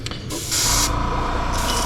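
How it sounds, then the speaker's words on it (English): Pearlized white paint sprayed over an entire squarebill crankbait lure: a steady airbrush-style hiss starts after a brief softer burst and runs continuously, close and fairly loud, with no talking. "The next color we're going to spray, I'm going to go over the entire bait with pearlized white."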